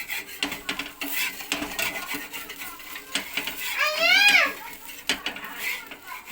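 A metal spatula scraping a rice flour chilla off a hot pan, making repeated short scratchy rasps with a brief squeaky scrape in the middle, close and fairly loud.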